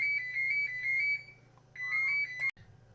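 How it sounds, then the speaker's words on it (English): A phone's electronic ringtone trills in repeated bursts over a low steady hum, then cuts off with a sharp click. "the phone always rings"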